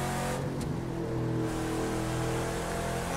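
A 1971 Camaro Z28 engine in the video game The Crew 2 hums and revs steadily, with a deep, throaty muscle-car rumble holding a constant level throughout.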